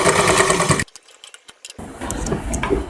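Sewing machine stitching a waistband onto a princess-cut blouse: a loud, dense mechanical whir runs for under a second, drops to near silence with a few faint clicks, then resumes as a steadier running hum.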